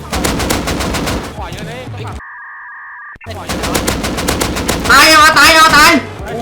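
Gunfire in the survival video game Rust: loud, rapid bursts of shots fill most of the clip, broken once by a short steady electronic tone, then heavier close-range firing.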